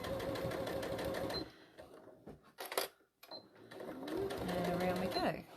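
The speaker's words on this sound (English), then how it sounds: "I'm going to slow my machine down, do a back stitch," A sewing machine runs at a slowed pace doing a back stitch, its rapid mechanical stitching loud and close; it pauses midway, then starts again while someone talks over it.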